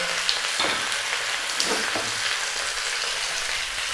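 Quail serving pieces sauté in a pan with crushed garlic for quail adobo, a steady loud sizzle with occasional stirring crackles and no voices.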